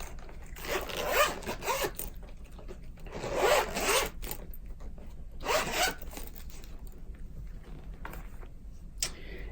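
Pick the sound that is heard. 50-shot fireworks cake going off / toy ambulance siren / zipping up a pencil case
zipping up a pencil case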